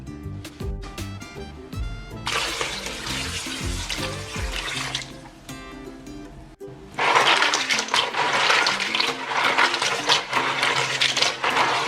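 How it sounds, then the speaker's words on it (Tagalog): Snails (kuhol) are rinsed in running water in a kitchen, with a steady gush and splash that pauses briefly and then returns louder and fuller over music. "Pagtapos na ay hugasan ulit para matanggal yung mga natanggal sa puwitan."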